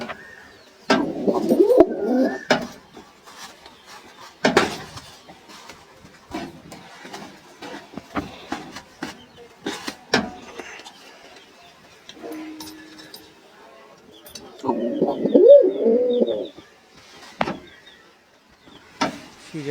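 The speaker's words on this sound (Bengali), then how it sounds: "সিরাজি এক জোড়া কবুতর।" Sirazi pigeons in a home loft give soft bursts of low cooing, two clusters rising between scattered clicks and handling knocks, while a person speaks intermittently nearby.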